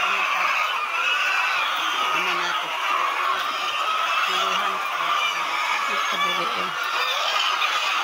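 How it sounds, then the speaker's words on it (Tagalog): A crowd of chickens clucks and squawks nonstop, a dense, loud, close clamor with no pauses. "Ang daming manok."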